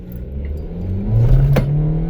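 Manual-transmission car engine revving hard in first gear, a steady low drone that swells and climbs in pitch midway, loud and close, with no talk.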